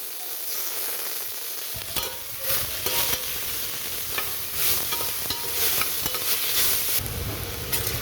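Masala mixture for fish biryani cooking in a pressure cooker, with a constant frying hiss broken by repeated scraping stir strokes of a spoon against the pot.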